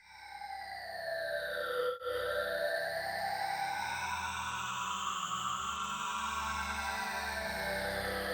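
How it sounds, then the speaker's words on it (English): A phaser effect applied to a sustained synth tone in music production, sweeping tones rising and falling continuously over a steady droning layer, with a brief dropout early on, no voices. "This time, what if we do a phaser?"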